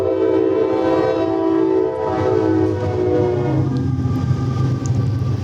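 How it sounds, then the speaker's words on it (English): A passing train rumbles loudly and close, its horn sounding in long sustained tones over the steady roll of the cars. "listen to that train."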